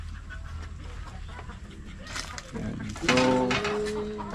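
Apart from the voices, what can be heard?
clucking egg-laying chickens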